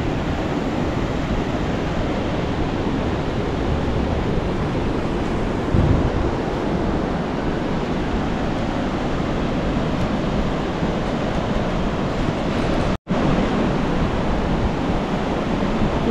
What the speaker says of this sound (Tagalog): Malakas na mga alon ngayon, oh.